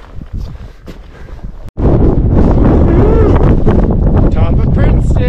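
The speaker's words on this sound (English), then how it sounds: "This peak always has so much wind." Strong wind roars across the exposed summit of Mt Princeton, a Colorado mountain peak, starting moderate and then turning into loud, steady buffeting against the microphone after a brief dropout, with some talk mixed in.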